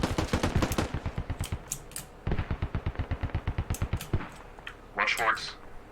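Battle gunfire with mortar fire: rapid bursts of shots in a steady, fast rhythm run through most of the stretch and stop briefly partway. A louder blast or whoosh comes near the end.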